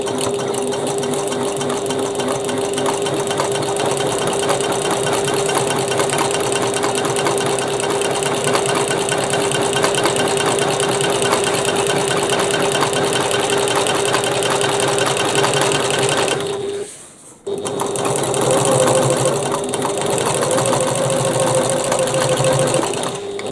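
A sewing machine runs steadily, top stitching a bag with dark thread in a close, loud, continuous whir, broken by one brief stop before it resumes.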